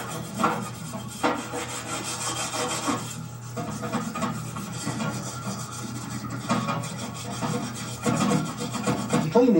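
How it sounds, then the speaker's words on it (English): Scrubbing the outside of a Mazda RX7 13B rotary engine rotor housing in a parts washer, a close, raspy brushing with repeated strokes and occasional sharper scrapes over a low steady hum. "Simply take it to the parts washer and scrub."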